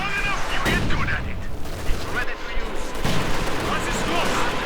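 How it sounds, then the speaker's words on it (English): Katyusha rocket artillery bombards positions in the video game Company of Heroes 2, a busy stretch of booming impacts and gunfire beneath a commentator's voice. "we're seeing a Katusha out. Bombarding the German central positions."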